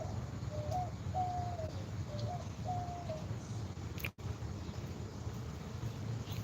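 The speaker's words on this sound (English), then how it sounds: "You always hear birds and stuff because we have so many trees." Birds call among trees at a residential spot in Houston, a few clear whistled notes repeating in the first half over a steady low outdoor rumble, with no one talking.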